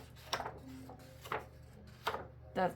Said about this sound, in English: And you hear how thick the paper is.